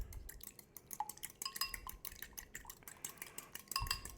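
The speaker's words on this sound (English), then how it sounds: "we're gonna crack our egg into our bowl, and we are going to whisk our egg mixture here" Egg is whisked in a bowl with quick, irregular clinking and tapping strokes, close but fairly quiet, with no talking.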